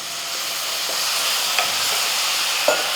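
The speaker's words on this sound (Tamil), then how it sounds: "இந்த தண்ணியிலே இந்த மசாலாலாம் நல்லா வதங்கணும்." Masala spices sautéing in oil with a little water added, a steady soft sizzle and hiss from the pan with a couple of faint clinks of stirring.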